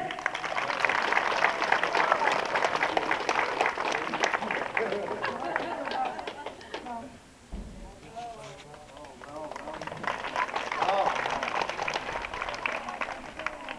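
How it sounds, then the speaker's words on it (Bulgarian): An audience at a Bulgarian footballers' association awards ceremony claps, a dense, loud, sustained round of applause that dips briefly midway and then builds again to full strength. "сега очаквам вашите аплодисменти за Тодор Неделев."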